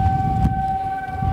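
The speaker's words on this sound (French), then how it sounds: "Cette sirène marque le début d'un exercice" Steady wailing siren of an airport fire service, sounded to mark the start of an exercise, holding a constant tone and heard loud and close with a low rumble beneath it.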